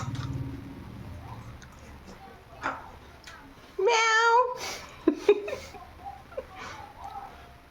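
One drawn-out cat meow rises clearly midway, with a couple of short chirps after it, amid quiet room noise and some faint voices.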